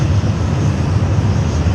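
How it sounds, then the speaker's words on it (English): A Rex fixed-wing aircraft at Sydney Airport, heard as a loud, steady engine roar and rumble held without break across the short stretch. "So Pell flight is probably this aircraft here operating"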